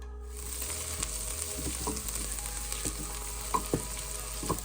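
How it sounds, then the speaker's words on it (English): Onions and garlic sauteing on medium heat in a pan for chipotle black beans, giving a steady close sizzle with scattered small pops and a few scrapes of stirring, no voices. "Add 2 chopped onions, and you will want to saute these on medium heat until translucent."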